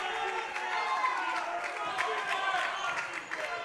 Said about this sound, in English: A little bit of energy coming for the crowd